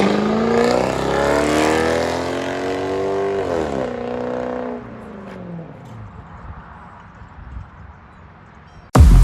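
A 1994 Lexus SC400 V8 with true dual straight-pipe exhaust revs loud and close, its note rising and then sweeping down as it fades into a quieter rumble, and ends on a sudden loud burst.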